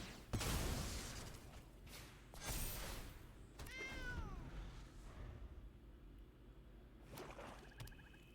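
A cartoonish cat meows once with a rising, wavering call inside the MTG Arena card game, set among clattering game effects and low background sound.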